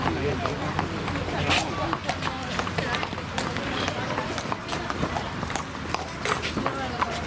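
Horses' hooves clip-clop quickly and steadily on ground at an equestrian riding event, close and continuous, mixed with crowd murmur and people talking nearby.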